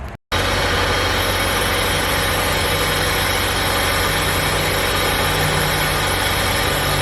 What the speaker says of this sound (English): So let's turn on the vehicle.